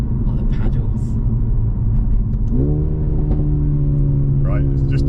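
A Mercedes-AMG A35's engine rumbles under acceleration, then drops pitch in a distinct upshift before pulling steadily again, heard from inside the car while people talk.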